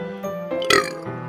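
A single drawn-out burp from a character in the Doki Doki Literature Club game, rising to a louder, rough peak in the middle before trailing off, heard alone over a faint steady background tone.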